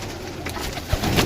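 A Ferozpuri pigeon coos softly and close by at a pigeon sale, a short low burst over a noisy outdoor background.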